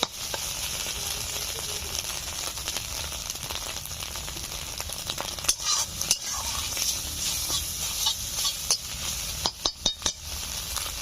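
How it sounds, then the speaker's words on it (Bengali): An egg fries in a pan with a continuous crackling sizzle, close up, and a few sharp utensil clicks and scrapes toward the end. "দেখুন ডিম ভেজে নিয়েছি, তুলে নিচ্ছি"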